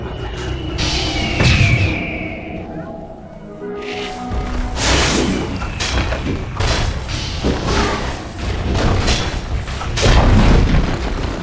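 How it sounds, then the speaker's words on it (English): Dota 2 match between Falcons and Team Spirit as Dire's bottom tower is attacked: a steady stream of heavy booms, thuds and impact blasts, loud and close, with busy battle effects layered throughout. "Dire's bottom tower is under attack."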